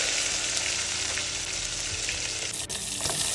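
Mustard seeds, cumin and dried red chillies frying in hot oil for village-style sambar, a steady close sizzle with a faint knock near the end.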